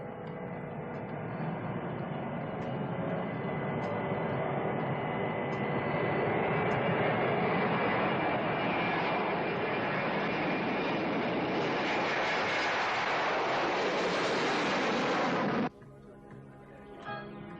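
Jet airliner taking off at San Francisco International Airport in 1970, a loud sustained engine roar that builds and then cuts off abruptly, followed by quieter background.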